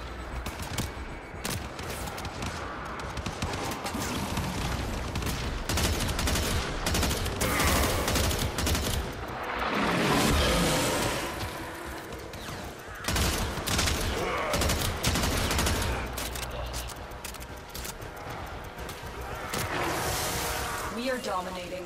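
Sustained barrages of weapon fire and booming blasts from the video game Warframe fill the scene almost continuously, dense and loud throughout, with a voice talking over them at times.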